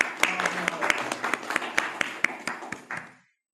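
Audience clapping at a networking-for-introverts talk, a scattered round of individual claps from a modest group that tapers and stops abruptly near the end.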